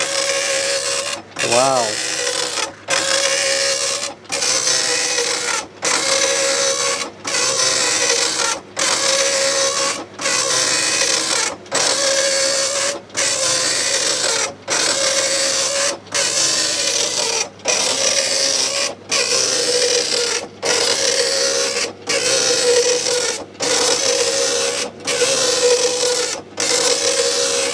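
A Commodore 64 dot-matrix printer prints bidirectionally, a steady rasping buzz broken by short regular pauses at each line, continuing for nearly half a minute with a brief exclamation from a person early on.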